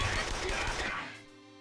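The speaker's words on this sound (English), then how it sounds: "Gunfire, again" Gunfire in the video game Persona 5 Royal, a loud crackling burst of game gunshots and impacts that fades out into a ringing tail over under two seconds.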